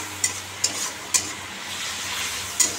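Spice paste being stirred and fried in a pan, a steady soft sizzle broken by four brief scraping stirs, close and with no talk.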